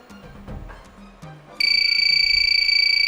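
A quiz show buzzer goes off partway through a school quiz round. Murmuring room noise comes first, then a loud, sustained electronic buzz cuts in and holds steady to the end.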